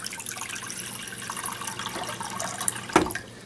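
Water pours steadily into a pan to set up a double boiler for melting chocolate, a continuous close splashing wash that ends with a brief clink and splash near the end.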